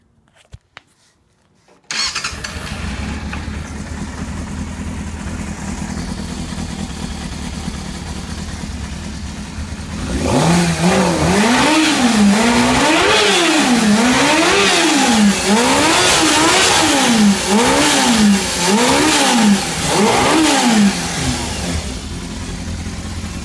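A 2001 Yamaha YZF600R motorcycle engine, tested cold, cranks and catches after a short silence, idles loudly, then revs up and down repeatedly in rhythmic bursts close by.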